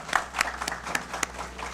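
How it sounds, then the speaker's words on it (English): A handful of separate claps from a small audience at a World Suicide Prevention Day talk, sparse and uneven hand claps spaced apart over a quiet background. "shall we give a big round of applause to Dr."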